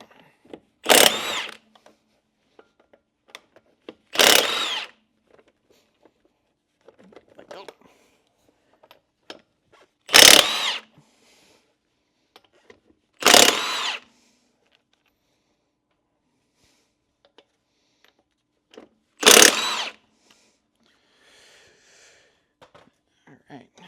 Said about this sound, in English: got our key on the keyed lug nut.